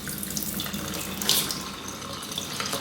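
Rinse water poured out of a pot of washed rice, a steady splashing gush like a running tap that continues for about three seconds, close and moderately loud with no talking.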